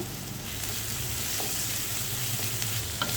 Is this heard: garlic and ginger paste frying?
yes